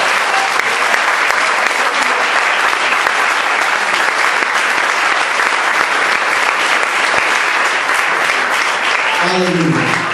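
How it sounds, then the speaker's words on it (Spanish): Loud, dense applause in a church congregation for the Lord, a continuous roar of many hands clapping at close range, with a voice emerging faintly toward the end. "Démosle un fuerte aplauso a nuestro rey, a nuestro amado Señor."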